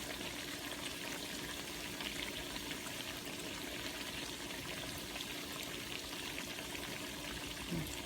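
Hot grease pops and crackles steadily around salmon croquettes frying in a pan, a dense continuous sizzle at close range with no one speaking.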